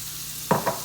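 Salted butter with Parmigiano Reggiano and Parmesan cheese sizzling on a Blackstone griddle, a steady close frying hiss with two quick stirring scrapes near the end.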